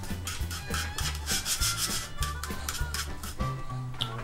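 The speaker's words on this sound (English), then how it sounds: "Rub this in." Hands rubbing coarse salt into a raw top round steak, a steady gritty scrubbing and shuffling with rhythmic soft thumps as the meat is worked, close and continuous with no talking.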